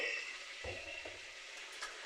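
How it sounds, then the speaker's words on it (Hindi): Mutton sautés in hot oil with garlic ginger paste, a faint steady sizzle running throughout with a soft stirring scrape or two near the middle, quiet and without voices. "थोड़ा सा गोश्त को इसमें सौते कर लेंगे लहसुन अदरक के पेस्ट में"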